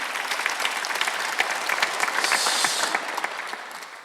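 A church congregation at a Sunday worship service claps together, a close, lively burst of many hands with brief rising swells, fading slightly toward the end.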